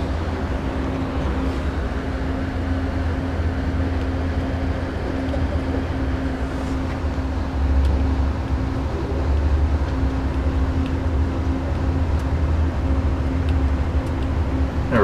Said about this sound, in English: the train is starting to move at 10 o'clock, so half an hour late